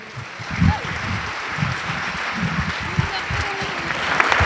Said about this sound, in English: One more round of applause for the Woodwind Choir, please.